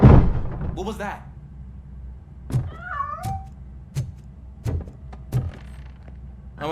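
A cat meows in the video game RoboCop Rogue City: one drawn-out, wavering meow mid-way, set among several sharp clicks and knocks, with a faint rustle at the start.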